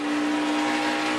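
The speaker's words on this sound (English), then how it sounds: "The engine rev up." A race car engine holds a steady, loud, high-pitched drone with a strong tonal whine, continuous and unbroken throughout.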